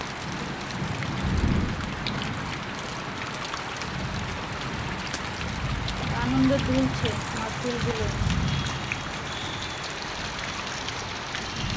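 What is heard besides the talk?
rain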